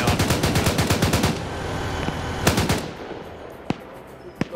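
A BTR armored vehicle firing in a video game: a rapid, loud burst of automatic gunfire for over a second, then another short burst, followed by a few single, sharper shots spaced apart.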